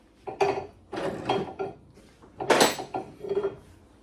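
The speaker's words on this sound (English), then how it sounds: "Let me get my nuts and bolts together." Metal nuts and bolts clink and rattle in several short bursts, handled up close while a 1972 VW Super Beetle is reassembled back to the chassis.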